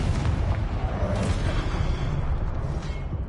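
Spell blasts and explosions in the Hogwarts Legacy video game form a dense, continuous barrage of booming impacts and whooshes, loud and close, with no pauses across the stretch.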